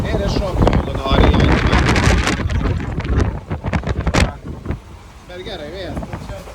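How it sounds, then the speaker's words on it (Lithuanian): Wind buffets the microphone on a boat trip in Alleppey, Kerala, a loud, rough rumble with gusty bursts that eases toward the end, while a voice talks over it. "Bet gerai, vėjas."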